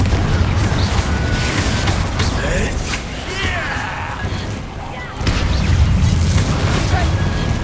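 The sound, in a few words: Confringo fire-blast spell explosion in Hogwarts Legacy video game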